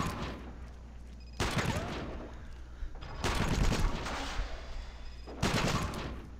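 Gunfire from the Iron Storm war game comes in three dense bursts of rapid shots, loud and close, separated by quieter stretches of background battle noise.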